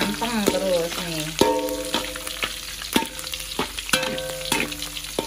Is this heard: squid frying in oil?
yes